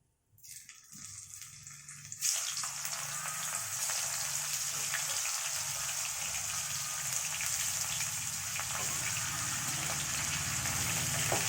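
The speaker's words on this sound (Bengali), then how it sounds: "এবার আমি ফুলকপিটা ভেজে নেব।" Steady, loud sizzling of cauliflower frying in hot oil, starting with a softer crackle and swelling into a continuous hiss that holds to the end.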